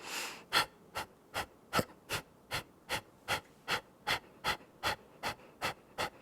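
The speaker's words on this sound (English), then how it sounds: "Another Ujjayi inhale, equal exhale, and now big inhale will begin." Rhythmic Ujjayi yoga breathing during a morning energy practice: about fourteen sharp, evenly spaced breath pulses, clear and close, with no talking.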